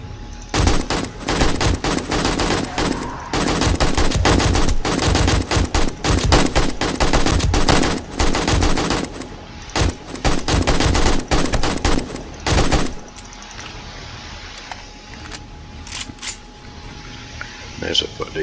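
Rapid, loud machine gun fire in 7 Days to Die during a horde night, sustained bursts for about thirteen seconds before dropping to quieter ambience with scattered shots and a voice.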